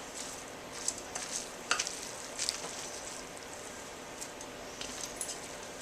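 Pasta carbonara made with home pressure-canned bacon is stirred in a pan, giving a soft, faint sizzle with scattered light clinks and scrapes from the utensil.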